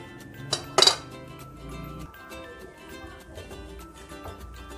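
Chicken bread ingredients are mixed in a bowl with a utensil, giving sharp clinks and scraping knocks against the bowl, with a loud cluster of clatter early on, then quieter irregular stirring.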